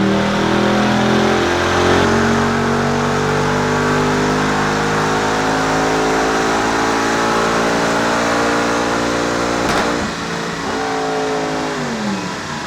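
A Mercedes C63 engine revs loudly and continuously on a dynamometer, climbing steadily in pitch over several seconds before a sharp drop and a brief second rise.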